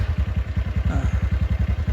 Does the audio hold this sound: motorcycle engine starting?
yes